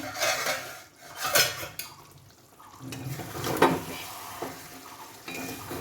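Metal clanks and clatters as the lid comes off a cooking pot of simmering fish, a few sharp hits spread over several seconds with faint sizzling underneath.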